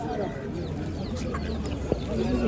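Lohmann hens cluck at a busy poultry market in Kırıkkale, short clucks and fowl calls scattered among market chatter, with people talking throughout.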